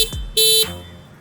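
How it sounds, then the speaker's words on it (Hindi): A basic electric horn on a Bajaj Freedom 125 CNG motorcycle gives one short, loud, steady beep of about a quarter second, heard up close with no talking. "वही आपका बेसिक सा हॉर्न भी यहाँ पर आपको देखने को मिलता है।"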